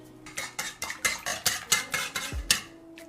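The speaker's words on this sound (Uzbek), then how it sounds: "venchikda ozgina ko'pirtiramiz" A whisk beats three cracked eggs in a bowl for dough, giving about a dozen quick, rhythmic clicking strokes against the bowl, close and fairly quiet with no talking.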